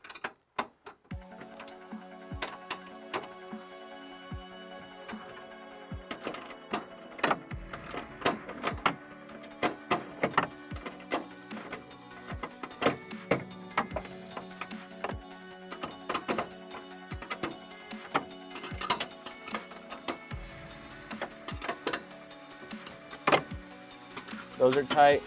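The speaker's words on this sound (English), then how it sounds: "go ahead and tighten up the bolts in the back." Bolts are tightened on Toyota pickup bed rail mounts, a close, steady series of rapid ratchet clicks repeating in short runs throughout, with a voice speaking over them.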